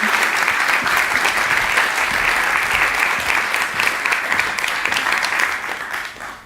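Big round of applause from a conference crowd, dense and steady clapping filling the room at full strength before gradually tapering off at the end.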